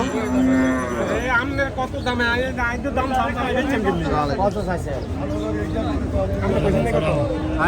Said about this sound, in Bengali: কিছু ছোট ছোট মাংসের সারগরু দেখা যাচ্ছে